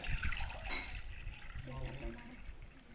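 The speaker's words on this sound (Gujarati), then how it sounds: "આપણે આમાં પાણી નાખશું" Cold water poured into a mix of cumin, chilli and salt for pani puri, a steady close splashing and trickling with liquid running throughout the short stretch.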